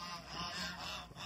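Geese honk on a duck farm in one brief continuous burst, close and fairly loud, with no talking.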